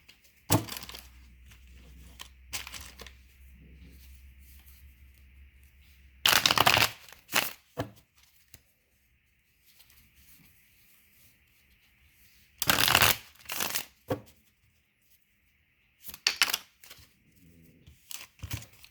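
Deck of tarot cards being shuffled, with several short, loud riffling bursts separated by quieter handling and faint rustling, close up.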